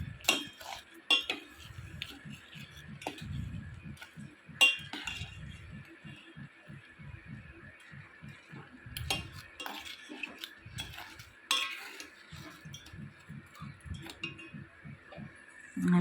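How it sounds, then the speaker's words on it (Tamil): Black kavuni rice pudding with jaggery is stirred in a pot over a low flame, producing irregular close spoon clinks and scrapes against the metal, fairly quiet, with no speech. "இப்போ நல்லா லோ ஃப்ளேமில் வச்சு நல்லா கிளறி கொடுப்போம்."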